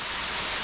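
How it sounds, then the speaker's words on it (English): Waterfall Swallet near Foolow, Derbyshire, a waterfall plunging into a swallow hole, gives off a steady, dense roar of falling water, loud and unbroken throughout. "the waterfall comes down and it doesn't escape, it swallows it"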